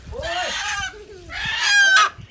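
A hen chased for karahi lets out two loud, agitated squawking clucks about a second apart, each a rising, rasping burst, close to the listener with faint background noise between them.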